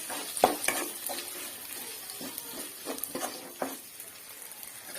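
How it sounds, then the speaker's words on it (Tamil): Masala stirred and fried in a pan with tomato for chicken gravy, giving a soft continuous sizzle broken by several sharp spoon scrapes and clinks against the pan, close and moderately quiet, with no talk. "பச்சை வாசனை போற வரைக்கும் நல்லா கிண்டி விடுங்க"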